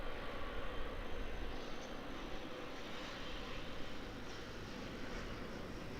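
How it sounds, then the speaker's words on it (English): Air New Zealand ATR 72 turboprop arriving from Napier at Auckland Airport, a steady broadband engine roar holding at moderate level throughout, distant and continuous with no voices. "Air New Zealand ATR 72. Coming in from Napier."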